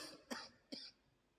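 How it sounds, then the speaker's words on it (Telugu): Two short, faint coughs about half a second apart, from a man with a cold in the middle of a Sunday church worship service, followed by quiet. "ఇట్లా ఇబ్బందిగా ఉంది, దగ్గు."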